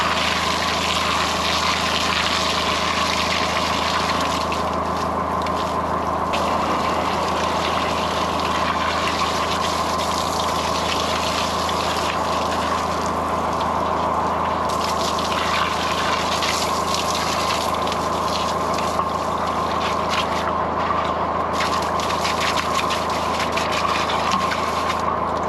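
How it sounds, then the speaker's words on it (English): Jetting hose spraying water to wash out a drain chamber in an office and warehouse washroom, a steady loud gushing hiss with a constant pump-like drone running unbroken throughout, no voices. "I'm going to use the jetting hose just like a hose pipe to give this chamber a bit of a wash around"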